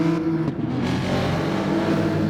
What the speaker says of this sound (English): Lights are on, revs are up.